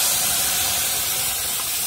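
Vegetables and masala tipped into a hot garlic-cumin tempering give a loud, steady sizzling hiss that holds for the whole stretch, close up and with no talking.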